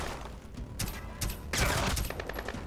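Gunfire in the stealth video game Splinter Cell: Blacklist, rapid bursts of automatic shots crackling in quick clusters, loud and close, with the heaviest volley in the second half.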